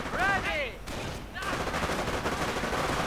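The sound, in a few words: infantry rifle gunfire in a WWII strategy video game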